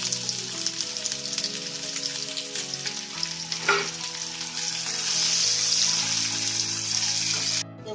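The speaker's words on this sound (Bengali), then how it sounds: "এবার আমি পেঁয়াজটা ভাজা করে নেব" Steady loud sizzling of onions frying in hot oil, with occasional stirring scrapes, close up and continuous throughout.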